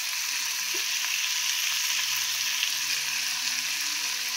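Prawns with turmeric frying in a pan, a steady close sizzle and crackle with soft stirring scrapes, no talking.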